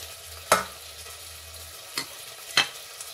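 Kalonji, fenugreek seeds and salt go into a frying pan over a faint background sizzle, with three sharp clattering hits as the spatula strikes the pan.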